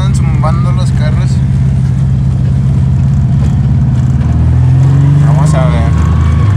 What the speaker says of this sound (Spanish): ahí vamos llegando al sitio y andan zumbando los carros